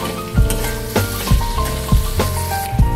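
Paneer bhurji masala sizzles in a pan as tomatoes are stirred in, with a steady frying hiss punctuated by regular spoon or spatula knocks against the pan roughly every half second, close and loud.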